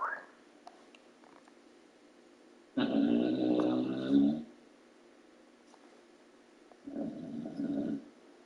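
A dog snores nearby, with two separate rumbling, gravelly snores set apart by a stretch of quiet, the first longer and louder than the second.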